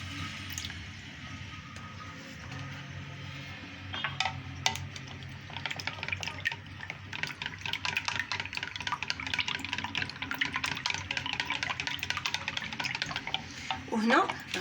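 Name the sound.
glass of milk being added and stirred into batter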